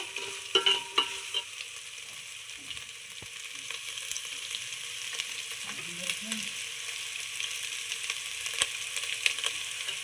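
Veg pulao being stirred in a pan, a soft steady scraping and gentle sizzle running throughout, with a few sharper clinks near the start.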